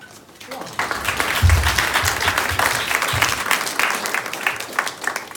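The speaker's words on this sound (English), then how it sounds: "we can applaud each one" Audience applauding employees of the quarter at a 2019 quarterly company gathering: sustained broadband clapping from a sizeable crowd, rising after a quiet start and holding steady, with a few low thumps and some voices underneath.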